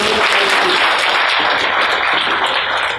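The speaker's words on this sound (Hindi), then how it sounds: "कृपया जोरदार तालियों" Loud, dense applause from an audience at a Lions Club Kota meeting welcoming new members, a steady wash of many hands clapping at close range for about three seconds with no talk.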